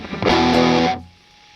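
Electric guitar run through two stacked distortion plugins with the noise gate switched off, a loud, thick, fizzy sustained chord ringing for under a second before cutting to a lingering hiss of residual noise.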